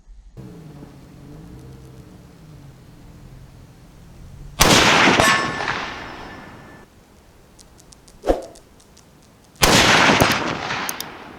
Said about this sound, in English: take a couple shots at 200 yards